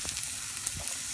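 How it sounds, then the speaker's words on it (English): Bell peppers hit a hot pan of sautéing garlic, giving a brief, bright, crackling sizzle of frying with small popping spatters. "Now I'm going to add in my peppers. Be careful, it is going to sizzle."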